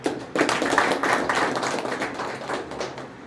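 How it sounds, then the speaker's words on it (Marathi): A crowd of party youth workers claps at a political campaign rally. The clapping is dense and steady, starting suddenly and fading slightly toward the end, with no voices above it. "या वाक्यासाठी जोरदार आपण टाळ्या वागले"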